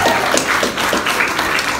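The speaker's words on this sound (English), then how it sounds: "Everybody, a round of applause." Audience applause for a Rapunzel cosplay contestant at a comic con costume contest in Bury St Edmunds, dense loud clapping from a crowd that fills the whole moment.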